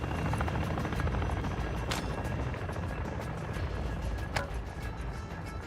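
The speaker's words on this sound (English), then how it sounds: "I hope that attack helo's headed my way" An attack helicopter in the video game DMZ thrums steadily with a continuous rotor drone, holding loud and close from start to finish, with faint higher clatter layered over the beating blades.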